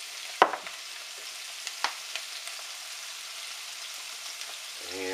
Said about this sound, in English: Okay, so start sauteing them up.